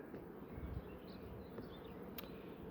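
Honeybee colony buzzing at a hive in spring, a steady low drone of many bees close by, with a few individual insects whining past and a faint sharp tick near the end.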